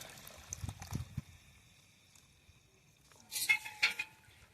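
Liquid sloshes and swirls as a pesticide solution is stirred in a sprayer tank for early-spring orchard spraying, with a few knocks early on and a louder splashing burst near the end.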